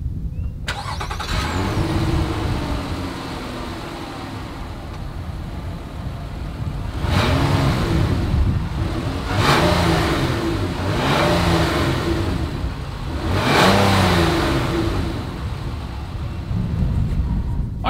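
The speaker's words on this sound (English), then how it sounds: "here is that exhaust clip" A 2020 Nissan Murano SUV engine with dual exhaust idles with a deep rumble, then revs up sharply several times, each rev rising and falling, close and loud with no talking.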